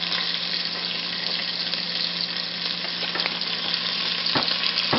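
Scallion whites frying in a pan for ramen, with a constant crackling sizzle close by and a few sharp clicks near the end, and no voices.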